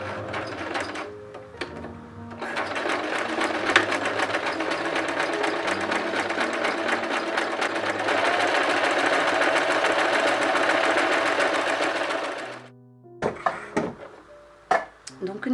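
A domestic sewing machine stitches the ends of a child's fabric face mask, running steadily and loudly for about ten seconds, with short start-and-stop bursts before and after and a voice talking at a few points.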